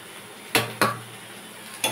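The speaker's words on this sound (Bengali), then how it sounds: "এবার পরিবেশনের পালা, তাই কড়াই থেকে একটা ডিশে বা বাটিতে নামিয়ে নেব।" Cooked banana stem with poppy seed scooped from a wok into a serving bowl: three brisk scraping clinks of a metal spatula against the pan, close and fairly soft, with no talking.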